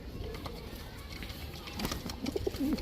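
Mili racer pigeons cooing softly, with a few low, rolling coos in the last second over a faint background hum and murmur.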